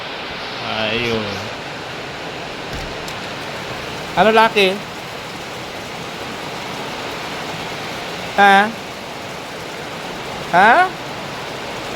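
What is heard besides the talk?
heavy rain falling on a hut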